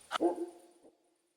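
A single short bark from a dog in the video game Kingdom Come: Deliverance II, a sharp yelp fading into a brief whining tail, fairly close and alone.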